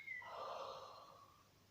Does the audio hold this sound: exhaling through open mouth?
yes